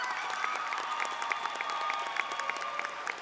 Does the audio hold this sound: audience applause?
yes